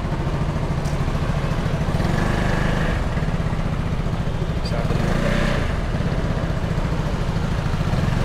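The engine of a Lambretta X300 Limited Edition scooter runs on a test ride with a throbbing mid-pitched putter that rises slightly in a couple of places. Voices are faintly present beneath it.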